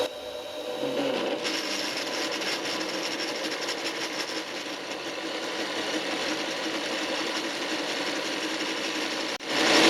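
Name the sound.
centre drill cutting metal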